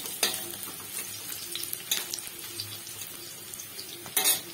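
Onions frying in a pan as they are stirred, giving a steady close sizzle with scraping and clinking of a utensil against the pan and a couple of sharper bursts near the start and end.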